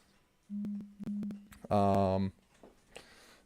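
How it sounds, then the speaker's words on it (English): A mobile phone goes off with repeated steady electronic beeps, a few short pulses followed by a longer tone, then a brief buzzing burst, heard indoors during a live stream with faint background noise. "Sorry, my phone is going off right now."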